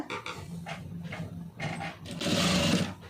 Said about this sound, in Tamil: அதை மடக்கி அப்படியே ஒரு தையல் போட்டுருங்க